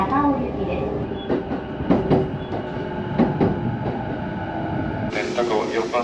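A Chuo Line train arrives at Takao Station with a steady rumble of wheels on track, scattered clacks and squeals along the rails, and a bright chime or tone rising near the end.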